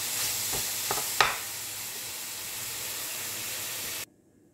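Ground beef for a tex-mex penne dish fries in a pan, a steady hiss with a few scraping stirs near the start, then cutting off abruptly to silence.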